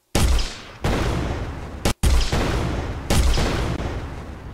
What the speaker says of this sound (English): when we shoot an object, you can see that there's a sound that plays, and we have a emitted explosion